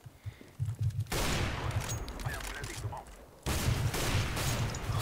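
Rapid bursts of gunfire from the video game CS:GO, loud volleys cutting in abruptly after a quiet start, pausing briefly and then resuming, with a player's voice talking underneath.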